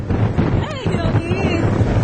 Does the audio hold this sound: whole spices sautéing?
no